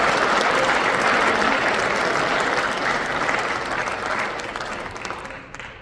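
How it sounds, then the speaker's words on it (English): A large audience at the Army Football awards ceremony honoring the 2025 team applauds its award winners in a dense, sustained ovation that stays loud, then gradually thins toward the end. "how about one more round of applause for all of our Army Football"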